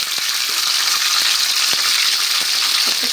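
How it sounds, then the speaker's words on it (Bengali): Peeled quail eggs fry in hot oil with a steady, bright sizzle and occasional soft pops and taps, close and continuous. "এই যে ডিমটা খোসা ছাড়ে তেলের মধ্যে দিয়ে দিলাম"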